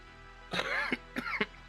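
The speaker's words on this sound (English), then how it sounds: "I had to clear my throat for a second" Two quick throat-clearing rasps, close and fairly quiet, with a brief pause between them and no talking.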